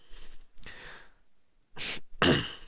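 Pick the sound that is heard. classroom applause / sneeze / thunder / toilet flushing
sneeze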